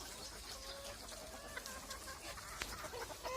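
Desi hens cluck on a poultry farm, with several soft, overlapping clucks and short calls scattered over a quiet, steady background.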